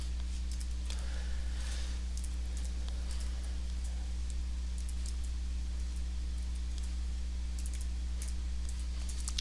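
Values are typed into a spreadsheet on a computer keyboard, the quiet keys clicking in short irregular bursts over a steady low electrical hum.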